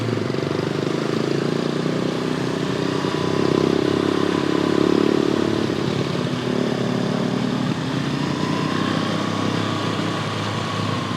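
A BMW R1200 GS motorcycle rides through city streets in Lima's Miraflores district. Its engine drones steadily and close, mixed with road and wind rush, and swells briefly partway through.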